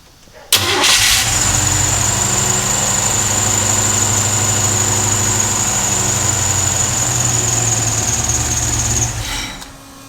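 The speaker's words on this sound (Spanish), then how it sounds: "Cuando tú quitas el pie del acelerador es que se apaga." A Chevrolet engine, in a van under camper conversion, turns over and runs loud and steady at idle with a thin whine for about eight seconds, then cuts out and stalls once the accelerator is released.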